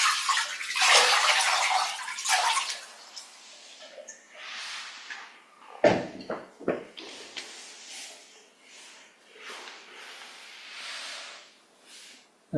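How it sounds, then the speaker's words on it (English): Water poured from a jug over feet into a bucket, with bursts of splashing and trickling that come and go, some sharp drips and splashes in the middle, fairly close. "by watering our feet with a jug of water, and we can just quickly wipe them and leave the bucket where it is."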